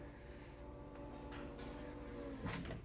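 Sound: power lift gate of 2018 GMC Yukon Denali operating

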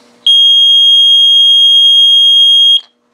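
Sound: bilge alarm buzzer

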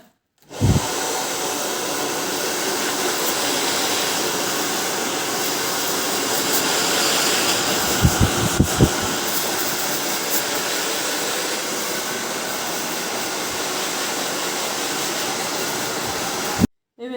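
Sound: hair dryer drying curly hair

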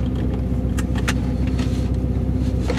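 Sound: Porsche 944 with V8 engine running

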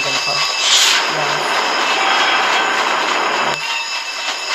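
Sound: train passing in Roblox Jailbreak video game

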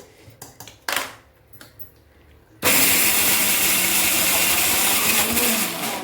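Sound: mixer grinder grinding raw banana mixture

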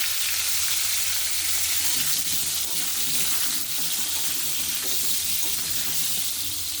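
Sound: potatoes frying in oil

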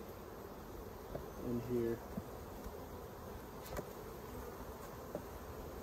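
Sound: honey bees buzzing in an open beehive

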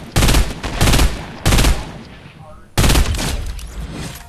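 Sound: gunshots in the video game Fortnite

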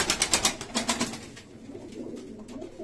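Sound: pet birds cooing in a loft

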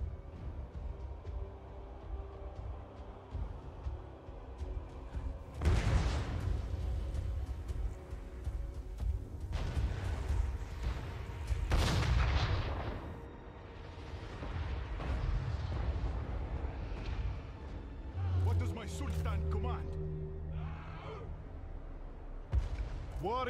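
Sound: cannon fire in a video game

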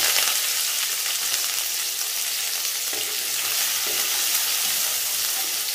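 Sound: mustard seeds, urad dal, fenugreek, curry leaves, shallots frying in oil

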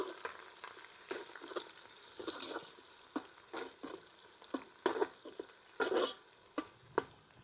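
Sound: onions and green chillies frying and stirred in oil

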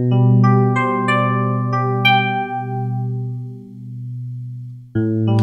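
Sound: electric piano sound from sampled 80s instrument plugin

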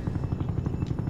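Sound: aircraft approaching in a video game (helicopter sound)

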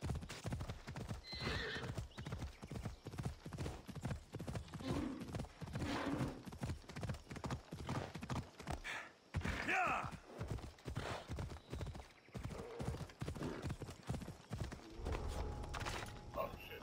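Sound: horse hooves galloping in the video game Assassin's Creed Odyssey

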